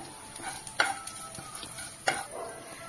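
Chopped ginger being stirred into a rava idli batter, with soft scraping and a couple of sharper spoon knocks against the pan over a quiet background.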